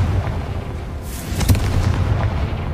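A Confringo blasting spell goes off in Hogwarts Legacy: a booming magical explosion with a sharp crack in the middle, set over a low rumbling game backdrop, no voices.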